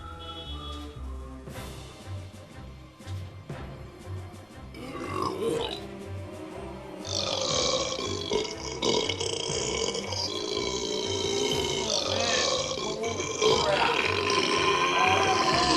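A man lets out one very long belch after drinking beer, a continuous guttural croak that shifts pitch and grows rougher and louder over about fifteen seconds, close up.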